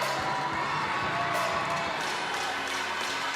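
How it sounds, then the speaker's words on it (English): A crowd at a gymnastics meet cheers and claps in a continuous, moderately loud roar with a faint bright shout rising partway through, heard from within the arena. "Crowd is going crazy over Hannah's score on beam."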